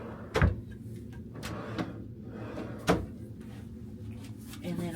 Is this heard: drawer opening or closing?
yes